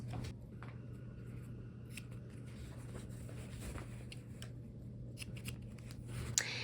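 Scissors snip the corners of a fabric quilt block in a quiet room, a few soft crisp cuts over a low steady hum, with a sharper click at the end.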